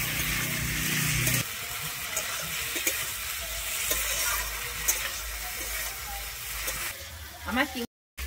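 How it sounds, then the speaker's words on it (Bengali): Prawns fry in hot oil in a kadai, a loud, steady, close hiss with a few faint clicks of stirring, before a brief cut near the end. "এখানে চিংড়ি মাছটাও লাল করে ভেজে নেব।"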